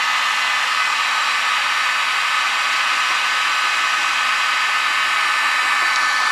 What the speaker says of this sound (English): We're going to go ahead and crank it up to high heat, get this baby going.